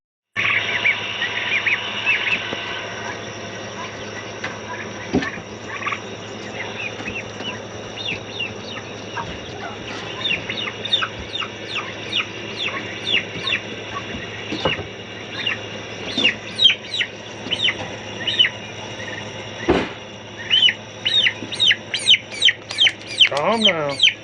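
Chickens clucking and squawking on a farm, with ducks nearby, in a steady busy chorus under a constant background hum, the calls growing louder and more rapid toward the end.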